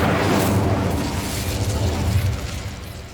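An Incendio fire spell cast in Hogwarts Legacy bursts as a loud, broad whooshing roar that fades steadily over about three seconds, with no voice heard.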